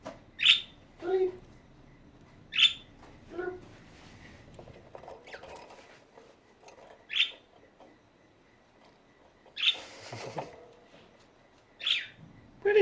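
Budgie chirps come in short, bright bursts scattered every second or two, fairly close and moderately loud over a quiet room.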